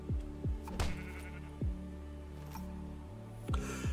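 Sheep in the Minecraft video game bleat in short repeated calls, several in a row over a low droning background, fairly faint with no talking.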